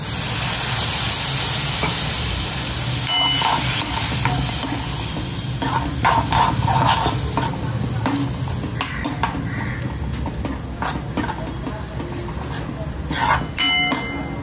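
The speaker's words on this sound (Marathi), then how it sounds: "मसाला जळू नये म्हणून मी फक्त थोडंसं पाणी टाकते।" Masala frying in a pan hisses and steams after a little water is added, a steady close sizzle broken by clinks and stirring scrapes.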